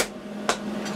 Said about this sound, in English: All I did was I hit it on my anvil.